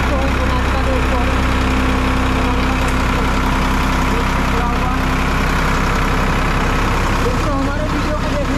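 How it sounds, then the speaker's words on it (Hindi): A tractor engine idling in a village setting, a loud steady low rumble that runs unbroken throughout, with a few faint background sounds over it. "ये देखिए ये ट्रैक्टर तो है सोनाथ का दोस्तों"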